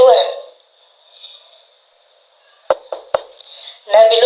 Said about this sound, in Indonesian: terdengar suara ketukan dari luar